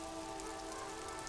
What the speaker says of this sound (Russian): Двор. Дождь поливает крышу сарая